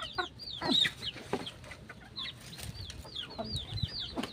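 Chickens cluck and cackle close by in short, scattered bursts, with a few sharper squawks over a quiet background.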